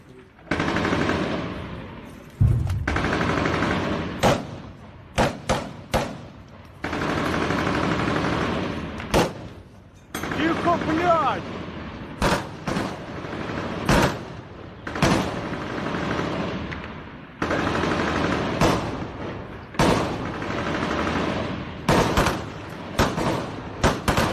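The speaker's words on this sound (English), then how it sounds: "We can hear a firefight in the distance as these Ukrainian soldiers are firing in that direction." Nearby rifle and machine-gun fire from Ukrainian soldiers in bursts and single shots, with a firefight crackling in the distance; loud, repeated volleys separated by short gaps, with little talk.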